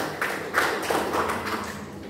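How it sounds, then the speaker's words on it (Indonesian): A class gives a small round of applause for a student group in an accounting lesson, a few sparse, uneven claps close by, brief and soft. "beri tepuk tangan untuk kelompok 1."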